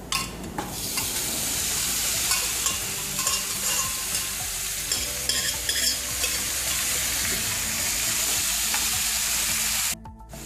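Cooked mutton stirred and fried in masala for a Kerala-style mutton roast, a steady loud sizzle with scraping stir strokes that runs the whole clip and cuts off abruptly near the end.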